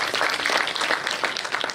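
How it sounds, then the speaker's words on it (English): Audience applause at a Salesforce India Dreamin '17 keynote for the rangers in the crowd, dense steady clapping from many hands filling the hall throughout. "Let's give a round of applause to everybody in here"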